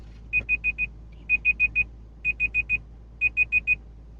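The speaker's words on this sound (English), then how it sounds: "my alarm went off." An alarm clock going off indoors: four groups of four sharp, evenly spaced electronic beeps, each group separated by a short pause, clear and moderately loud against a quiet room.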